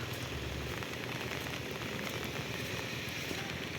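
Light rain shower falling over a Konkan rice paddy at transplanting time, a steady, dense patter of fine drops hissing evenly throughout at moderate distance with no other sounds.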